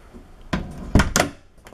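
A door swinging shut after a repair on a door that wouldn't stay closed, giving a sharp close thud with a quick latch click just after it, near and fairly loud against a quiet room.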